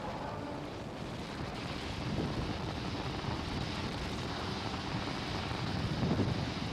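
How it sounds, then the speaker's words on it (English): Falcon 9 rocket's Merlin 1D engines throttling back up to full power during ascent, a steady broadband roar with low rumble, distant and continuous, no talk. "And throttling back up now. M1D engines back up at full power."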